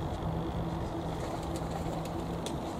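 Domestic pigeons coo softly at a keeper's loft, a low steady murmur of calls that runs throughout with no talking.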